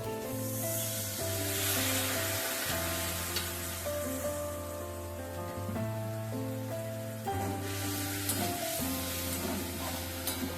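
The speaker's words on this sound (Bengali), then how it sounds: "আমি অল্প জল দেব" Spice paste for a chhana kofta curry frying in a pan after a splash of water, a soft continuous hiss and bubbling sizzle under a steady low hum.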